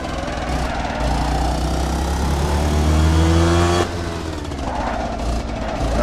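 A kart engine in a virtual reality racing game at the Circuit2Muret track, a loud, steady buzzing drone that climbs in pitch, drops sharply, then builds again as revs change, with no talking over it.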